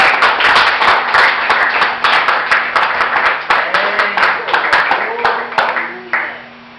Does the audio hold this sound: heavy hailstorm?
no